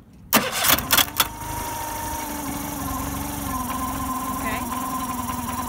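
A Honda BFP8D outboard motor cranks with a few sharp pulls, then catches and settles into a steady idle, close and continuous, as a voice briefly speaks over the start.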